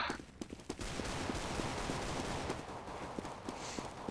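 Rapid bursts of gunfire in the video game Counter-Strike: Global Offensive crackle over a dense, steady background din, with sharp repeated shots at irregular intervals throughout.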